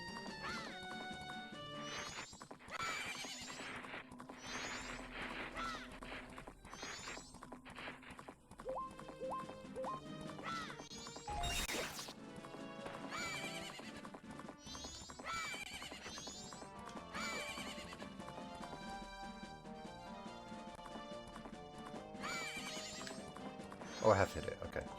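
Epona the horse being ridden in the video game Majora's Mask: steady galloping hoofbeats and a whinny sound over continuous game music, with a person talking.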